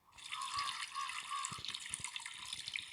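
Water runs steadily from a tap in a snowy winter setting, a close, continuous splashing stream with a few soft knocks and clunks beneath it.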